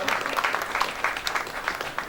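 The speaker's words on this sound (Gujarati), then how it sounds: "જોરદાર તાળીઓ વગાડી અને આપણે વક્તાશ્રીને વધાવીશું" Moderately quiet applause from a gathered audience welcoming a swami speaker at a religious katha assembly, with a steady patter of distinct hand claps throughout.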